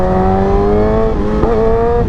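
A 1000cc liter motorcycle engine held at high revs, a loud close steady whine that rises slightly in pitch, briefly wavers as the throttle is blipped, then settles again.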